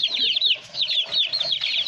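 Young chickens at a rural Philippine home, a quick series of chirping clucks repeating in rhythmic bursts, close and clear.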